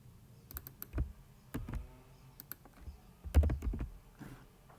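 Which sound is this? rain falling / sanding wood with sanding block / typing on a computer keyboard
typing on a computer keyboard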